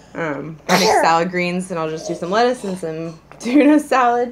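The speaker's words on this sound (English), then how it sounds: "Bless you." A single sharp sneeze bursts out close and loud near the start, with steady talk about preparing salad greens and tuna for lunch continuing around it.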